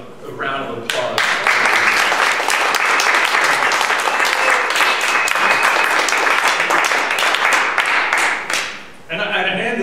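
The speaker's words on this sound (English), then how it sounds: "I think we owe him a round of applause" Loud, sustained audience applause at a talk on Eel River restoration, dense clapping that swells in and holds for several seconds before cutting off, with speech just before and after.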